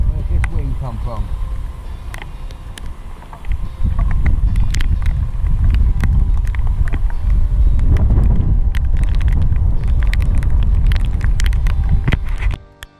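Strong wind gusting outdoors at a lake, a loud rumbling buffet against the microphone that rises and falls with scattered knocks and clatter.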